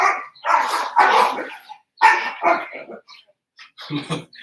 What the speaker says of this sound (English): My dogs are going crazy outside